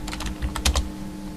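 Typing on a computer keyboard in a quick, uneven burst of close keystrokes over a steady low hum, with no voices.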